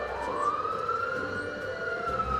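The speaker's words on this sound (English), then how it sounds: "Siren!" An ambulance siren wails steadily and loudly, a continuous rising and falling tone over a low rumble of traffic, with no talking.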